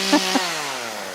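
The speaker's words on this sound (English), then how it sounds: "if you can hear me over the sawing" A chainsaw cutting tree branches runs close by with a steady buzzing drone, its pitch dipping slightly as it bites, with two brief bumps near the start.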